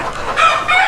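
Village chickens inside a commercial kampung chicken coop, close and loud, give a brief burst of clucking and crowing-like calls, with no talk over them.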